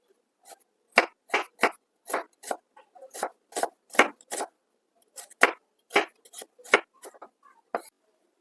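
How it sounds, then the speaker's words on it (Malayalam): Knife chopping an onion on a cutting board for a Kerala-style okra stir-fry: about twenty crisp, evenly spaced chops in a quick steady rhythm, close and clear with no talking. "ഇനി നമുക്ക് സവാള ഒന്ന് കട്ട് ചെയ്തെടുക്കാം"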